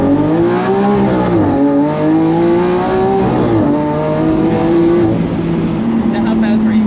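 A car engine starts by push button and revs loud and close, its pitch rising and falling over several throttle blips, with people talking over it.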